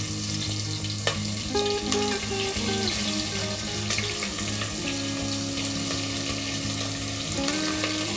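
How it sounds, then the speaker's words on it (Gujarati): Sliced onion sautés over a low flame in a pan for spiced rice, making a steady, moderate sizzle up close with a few faint clinks of a utensil, and no talking. "ડુંગળીને આપણે આ રીતે સાતળી લેવાની છે."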